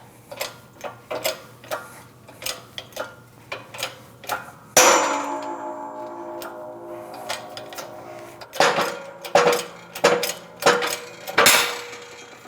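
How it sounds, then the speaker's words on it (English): A hydraulic press pushes a front wheel hub out of a Mercedes-Benz C300 knuckle: a series of steady metallic ticks and clicks, then a sharp ringing clang as the hub breaks free, followed by more clanks and ringing handling noises close by. "We're set up at the press. We're going to push out our hub."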